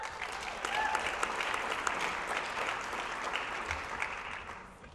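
Many hands clapping for finalists at a science fair awards ceremony, a full, even burst of crowd applause heard from a distance that sustains for several seconds before tapering off.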